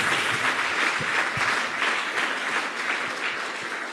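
A congregation at an Easter seminar claps together in dense, steady applause that fills the room, loud and close and easing slightly toward the end.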